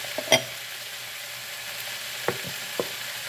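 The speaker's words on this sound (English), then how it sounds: "And then you have to saute all of these ingredients as I'm showing to you." Ingredients for milkfish in kamyas with beancurd sauté quietly in olive oil, a faint steady sizzle broken by a few soft clicks of a stirring utensil.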